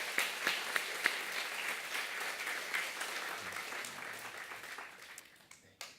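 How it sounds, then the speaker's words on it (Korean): Korean church congregation at a summer Bible school and retreat thanksgiving service gives an applause of praise to God, beginning with a few crisp claps and settling into moderate, even clapping that fades toward the close. "이제 하나님께 영광의 박수로 우리 하나님께 올려드리겠습니다"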